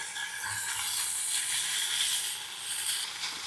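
Bok choy and paneer fry in butter in a pan, giving a steady, bright sizzle and hiss throughout, close and fairly even with slight swells, and no voices.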